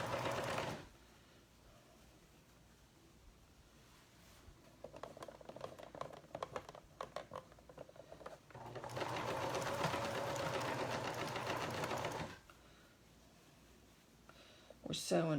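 A sewing machine stitches around the inside of a doll's dress shirt in two long motor runs, the second one steady and loud, with quiet gaps of handling noise between them. Someone speaks over parts of it.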